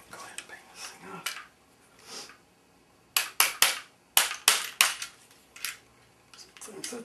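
Front handguard of a Romanian SAR-1 AK-47 rifle being knocked off, sharp metallic bangs and clacks in irregular bursts, several close together, with soft handling noise and murmured speech between.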